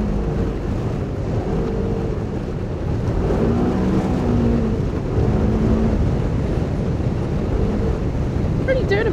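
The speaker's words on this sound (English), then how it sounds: "In a Polaris Razor." Polaris RZR off-road vehicle driving fast across dusty desert terrain, a steady loud engine drone with heavy wind buffeting on the microphone throughout, no break in the noise.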